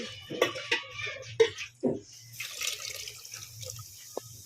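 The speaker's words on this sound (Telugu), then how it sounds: "నేనైతే వాటర్ పోస్తున్నా" Water poured into a tamarind prawn curry, a few splashy gurgling pours followed by softer trickling and a single drip, close and quiet.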